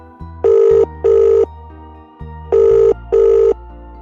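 An old-style telephone bell rings in two double bursts, loud and near, with a short gap between each pair of rings.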